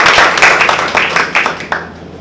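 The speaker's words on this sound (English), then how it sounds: "Let's give him a round of applause again." An audience at a Toastmasters club meeting claps in a loose, moderate round of applause that fades out toward the end.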